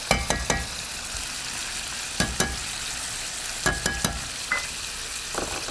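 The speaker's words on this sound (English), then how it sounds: "Give it a quick little toss, quick little mix around to wake up the garlic, to also wake up all of those herbs." Garlic and herbs sizzle steadily in a pan while being tossed and stirred, with a handful of sharp utensil scrapes and clacks breaking through the constant frying hiss; close and moderately loud, no talking.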